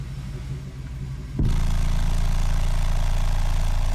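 A low engine hum runs for a moment, then jumps to a louder, steadier rumble that holds evenly through the rest.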